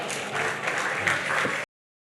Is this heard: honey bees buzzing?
no